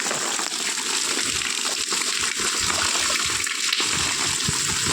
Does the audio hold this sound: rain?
yes